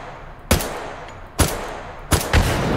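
Three sharp, loud gunshots in the VR shooter H3VR, spaced about a second apart, each a sudden broadband crack with a short ringing tail, heard alone with no talk.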